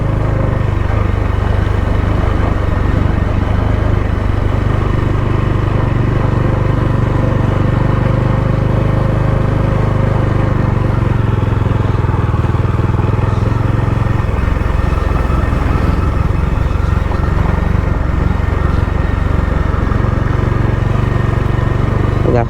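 A motorcycle rides along a forest road on a trip through Odisha, its engine drone steady and continuous under strong wind buffeting, with some voice faintly mixed in.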